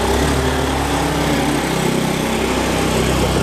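A motorbike engine running close by, a steady buzzing, high-pitched drone with no pauses and no voices, as the bike rides off.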